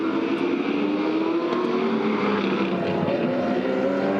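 A 2007 V8 Supercars race car at the Desert 400 drones by in the background, a steady mid-distance engine roar with slight pitch shifts, no voices over it.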